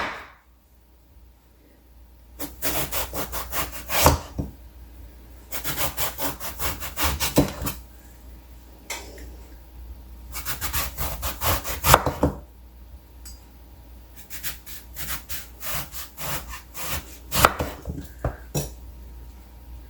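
A knife slices through a thick food paste into half-inch pieces, giving repeated bursts of rubbing, sawing strokes on a board with quiet pauses between each cut.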